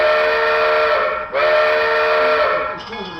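A B&O Royal Blue model train locomotive reverses along a layout, giving a steady loud mechanical hum with whistle-like tones that dip briefly and then carry on alone.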